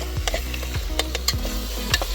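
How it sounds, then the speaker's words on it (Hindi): Mutton cooks in a pressure cooker with fried masala on an outdoor fire at a picnic, giving a steady sizzle with repeated scraping stirs and clinks of a metal spoon, heard close. "कुकर में बना रहे हैं मटन को"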